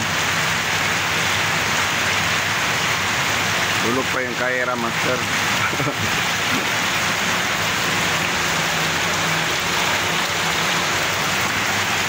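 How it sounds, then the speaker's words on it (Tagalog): Steady heavy rain pours down, a dense, loud, continuous hiss that fills the whole scene, while someone speaks briefly partway through. "Nakabutan ako ng ulan dito."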